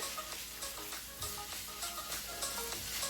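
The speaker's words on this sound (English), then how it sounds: "I'm going to give this a mix here." Oregano being stirred into a ravioli bake sauce in a pan, with a steady soft sizzle and faint scraping of the spoon running throughout, no voices.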